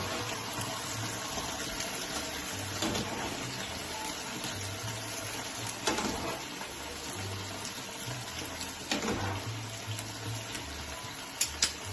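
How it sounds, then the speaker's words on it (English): Pasta cooking water drains steadily into a kitchen sink after spaghetti is cooked, a continuous wash of running water with a few louder splashes and gurgles, close and alone with no talk. "I'll just drain this last bit to the sink."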